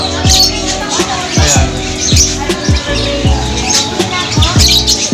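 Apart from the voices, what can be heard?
various birds chirping at a resort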